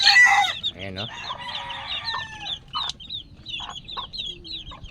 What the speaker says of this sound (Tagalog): Talagang mapupuno na ng mga manok yung aking munting manukan.